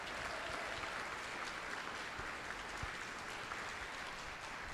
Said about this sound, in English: If you could give the Renos a round of applause,